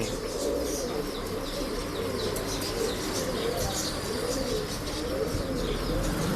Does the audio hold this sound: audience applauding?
no